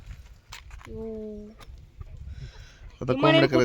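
Chickens let loose in a rural yard cluck briefly and softly nearby, with background rustle and a person speaking at the end.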